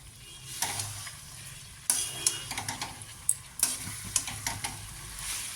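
Bottle gourd greens are stirred into spices in oil in a pan. They sizzle steadily and close by, and the spatula scrapes and knocks the pan at irregular intervals.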